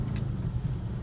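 A 2004 BMW 640Ci's 4.4-litre V8 rumbles steadily at idle, a deep low throb with constant level and no other sounds over it.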